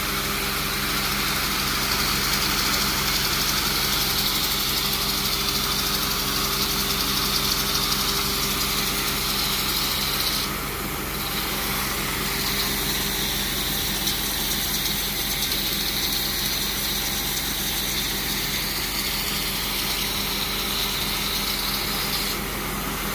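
A truck-mounted carpet cleaning machine drones loudly and steadily, a constant mechanical roar with a whining hiss on top, running without pause.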